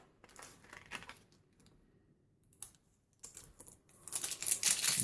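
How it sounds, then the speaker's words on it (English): Adhesive tape being carefully peeled off a piece of card while making a card easel, giving faint crackling and ripping bursts with quiet gaps, growing louder and denser toward the end. "So carefully take the tape off."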